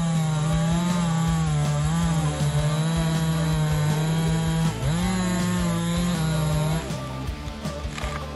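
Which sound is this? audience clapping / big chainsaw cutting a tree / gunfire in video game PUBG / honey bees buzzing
big chainsaw cutting a tree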